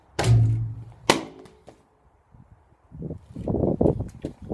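A half-full plastic bottle flipped at a basketball hoop outdoors in cold wind lands with two sharp hollow thunks, followed by soft rustling and a faint voice.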